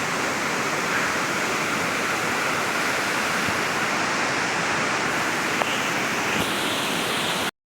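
Mallam Gummi waterfall near Araku, heard from above as a loud, unbroken broadband roar of falling water that continues evenly before cutting off abruptly at the end.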